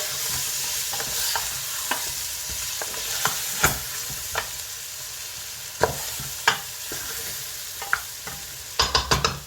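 Cumin powder is stirred into lamb paya frying in a pot, a soft steady sizzle broken by repeated scraping and clanking spoon strokes, with a quick cluster of knocks at the end.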